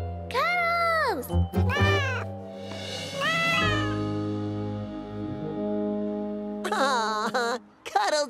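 A cartoon kitten meows several times in drawn-out, pitch-bending cries, loud and close, with a child-like voice and light background sounds around the calls.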